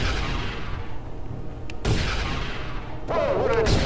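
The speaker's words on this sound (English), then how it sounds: "Whoa, what an explosion!" A ship explodes in the space combat game Space Commander: War and Trade, two sharp booming bursts with a whooshing crackle, loud and close over a low rumbling engine drone.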